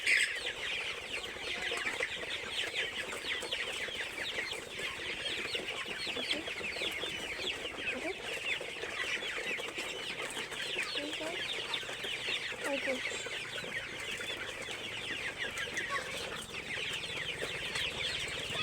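Sonali chickens on a farm cluck and murmur continuously as a dense flock, a steady close chorus of overlapping calls with faint voices talking now and then in the background.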